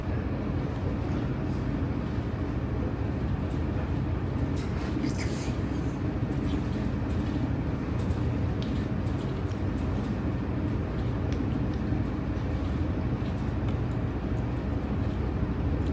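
Steady, low rumble and rattle inside a train dining car in Norway, continuous and even, with faint clinks and murmurs in the background.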